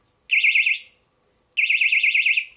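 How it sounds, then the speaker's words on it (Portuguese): Personal alarm from AliExpress triggered by pulling its pin shrieks in two loud, piercing warbling bursts of about half a second and a second each, separated by a short silence, close and alone. "Esse aqui é o meu item alternativo, é um personal alarme. O cara não pode gritar, ele puxa esse pino,"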